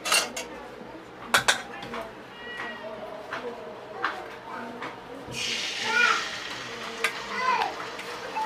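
Spices go into hot oil and are stirred in a pan: sharp metal clanks and scrapes of a spoon against the pan, then a sudden burst of sizzling midway, with a voice speaking at times.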